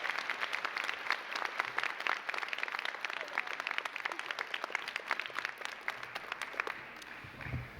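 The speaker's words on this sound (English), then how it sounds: "now give yourselves the round of applause you so deeply deserve" Graduates at a commencement ceremony give themselves a sustained round of applause, with dense, steady clapping from a large crowd that holds at an even level for several seconds before thinning slightly.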